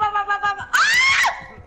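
A high-pitched scream from the video game Dead by Daylight cuts in sharply after a few brief voiced sounds, loud and sustained for about half a second before fading out.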